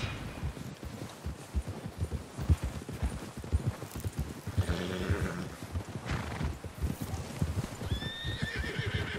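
Several horses gallop in the video game Red Dead Redemption 2, with rapid, drumming hoofbeats, joined by neighs and whinnies rising over the steady pounding.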